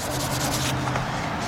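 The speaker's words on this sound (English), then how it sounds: "clean my hands off." A cloth rag rubs steadily over oily hands during an oil change on a 2007 BMW 328xi with a 3.0 engine, a close, continuous scuffing swish with no pauses.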